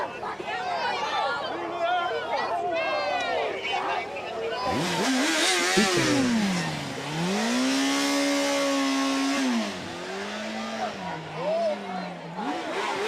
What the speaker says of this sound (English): Random motherfucker on a motorcycle just pull up.